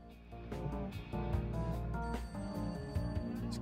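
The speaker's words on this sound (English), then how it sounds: "There's our phone ringing again." A telephone rings in the retro 1970s-set video game Serial Cleaner, with repeated bright tonal bursts in a regular pattern over a sustained musical backing.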